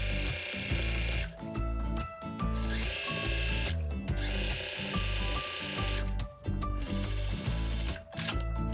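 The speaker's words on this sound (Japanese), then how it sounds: "両脇縫い代1センチで縫ってロックミシンをかけて裾をぐるっと縫っておきます" An overlock serger runs in long steady bursts as it stitches the side seams of a fabric skirt, loud and close with a dense mechanical whir, pausing briefly between passes, no voices.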